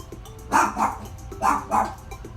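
A dog barks at the door twice in quick pairs, loud and close, with a low hum in the background.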